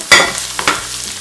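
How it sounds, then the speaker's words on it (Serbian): Flour is fried with garlic and blanched spinach in a pan, with a loud stirring scrape and sizzle at the start and a second stir midway, soft frying between. "Pržimo svega par sekundi i dodajemo obaren spanać."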